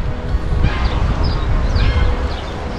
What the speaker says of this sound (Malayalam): താറാവ് താറാവ് കുഞ്ഞുങ്ങൾ